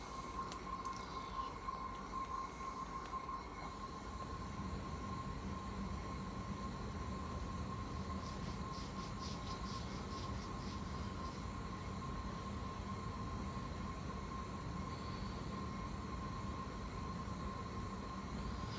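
Simpson EZIsensor 6kg washing machine filling for the rinse, a steady low rushing water flow and faint mechanical hum continuing evenly throughout, with a few light clicks and rattles near the start and middle.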